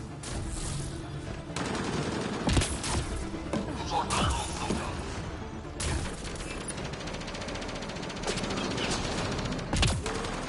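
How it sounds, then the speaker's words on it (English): Sustained gunfire from a Mass Effect: Andromeda firefight: dense, continuous bursts of shots with sharper cracks standing out, loud and close, running under game dialogue throughout. "Keep firing!"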